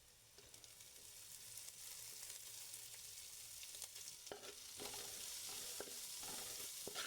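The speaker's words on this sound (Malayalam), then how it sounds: "ഇനി ഇതിനകത്തേക്ക് നമുക്ക് അരിഞ്ഞു വെച്ചേക്കണ വാഴച്ചുണ്ട് ചേർത്ത് കൊടുക്കാം" Chopped banana flower goes into hot oil with fried chillies and is stirred, giving a faint, steady sizzle that grows busier, with scattered spatula scrapes toward the end.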